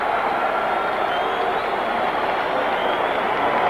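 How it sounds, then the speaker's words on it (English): A boxing arena crowd roars steadily as Muhammad Ali comes down the aisle before facing Oscar Bonavena, a dense, unbroken wash of cheering and clapping that stays loud throughout. "Crowd roars now as Muhammad Ali comes down the aisle"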